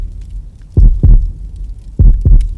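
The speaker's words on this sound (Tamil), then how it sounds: "உன் இதய துடிப்பு, உன் ஹார்ட் பீட்." A loud, close heartbeat thuds in a mystery thriller film, two deep double beats in a lub-dub rhythm over a low hum.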